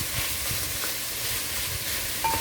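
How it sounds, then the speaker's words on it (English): Pumpkin and other ingredients for Jamaican fish tea sizzle in a pot, a steady close hiss of sauteing with a few soft stirring knocks and no voices. "So I'm just letting that saute for a little bit"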